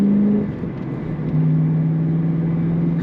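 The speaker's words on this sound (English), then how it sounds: "Responsive throttle you'd expect from a 90s fuel injected car." A 1996 Ford Mustang GT with a fuel-injected engine idles close by, blips briefly upward, dips, then climbs to a steady, higher hum that holds to the end.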